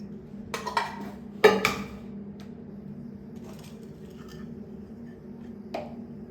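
A pan is set down in a home kitchen to make mushroom masala, a few close metallic clinks and a sharp clatter early on, then quiet with a faint tap near the end.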